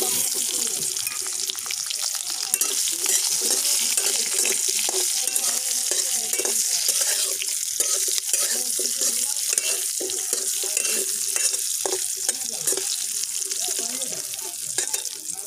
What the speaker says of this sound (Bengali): আলুগুলো দিয়ে দেবো ভাজার জন্য